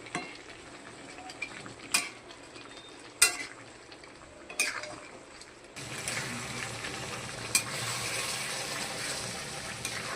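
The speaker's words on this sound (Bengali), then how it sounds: "তারপর দিচ্ছি এই বাটা মশলাটা। এটা একটু কষানো হবে।" Ground spice paste for a spicy mutton curry sautéing in a pan, a steady sizzle that grows louder partway through, broken by a few sharp scrapes and clinks of a spoon against the pot.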